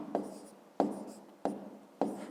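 A pen scratches across paper while working a fifth-grade maths exercise, four short bursts of writing strokes, close and fairly quiet, each fading into a brief pause.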